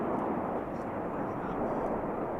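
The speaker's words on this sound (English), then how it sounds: "each aircraft will perform a 360-degree aileron roll" Red Arrows jets flying an aerobatic display at the Goodwood Festival of Speed, a steady broad distant roar of jet engines throughout, with commentary talk over it.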